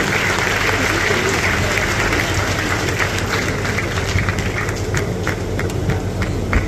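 A large crowd applauds at a public event, a dense continuous roar of clapping under a heavy low rumble and background hum, loud and steady throughout.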